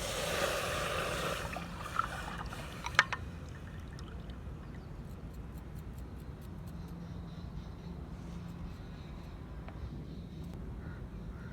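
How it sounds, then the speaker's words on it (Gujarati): Corn flour batter is poured into a pot of winter kadhi, a brief splashing pour near the start, followed by a steady low kitchen hum with no talking. "હવે જે આપણે ઘોળ તૈયાર કર્યો છે તે આપણે ઉમેરી દઈશું"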